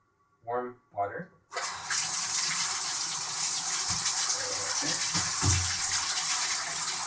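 Warm water gushes from a faucet into a plugged sink, a steady close splashing rush that starts abruptly and runs on, after a short spoken phrase just before it begins.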